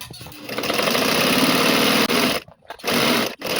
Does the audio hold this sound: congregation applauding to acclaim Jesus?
no